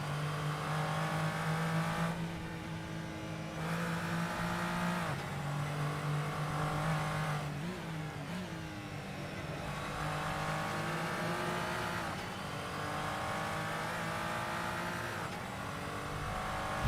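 Glickenhaus race car lapping Road Atlanta in a racing simulator, the engine note steadily rising and dropping through gear changes and corners, with revving surges at moderate level and no voices.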